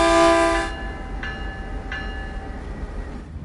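An MP36 locomotive in the train game Train Sim World 2 sounds a loud chord horn blast, followed by two short horn taps over the steady rumble of the running train.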